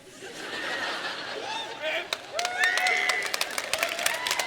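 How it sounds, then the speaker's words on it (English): An audience at a talk breaks into scattered clapping mixed with laughter and chuckles, the claps sharp and irregular and growing denser toward the end. "I hope you're not clapping because you do that"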